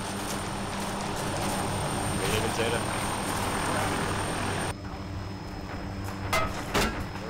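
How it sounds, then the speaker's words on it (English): Helicopter in the Arma 2 military game, a continuous rotor and engine drone under ongoing talk over radio, steady and fairly loud, with some brief clatter and a shift in tone partway through. "I'm trying to get the fucking helicopter going over."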